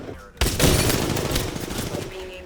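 Gunfire in the video game Apex Legends: after a brief quiet moment a loud volley of rapid shots erupts and keeps rattling on, dense and close, with a voice faintly mixed under the shooting.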